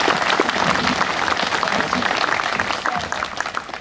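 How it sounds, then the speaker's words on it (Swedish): An audience clapping for a woman during a live event in Stockholm, a thick burst of applause that stays loud and even throughout before easing slightly at the end. "en applåd till henne för första"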